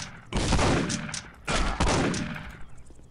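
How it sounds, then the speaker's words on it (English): Gunfire from a girl shooting in the game Postal 2: two dense bursts of rapid, loud shots, each fading out into a short echoing tail. "Oh, girl is shooting at me."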